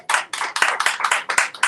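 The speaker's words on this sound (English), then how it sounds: "please give these two lovely ladies a round of applause." A small audience at a book club event applauds for a moment. Sparse, close handclaps come in uneven bursts, fairly loud, with no voices.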